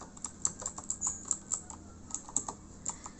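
Quiet, close typing on a computer keyboard, a quick irregular run of light key clicks entering survey labels into a statistics program.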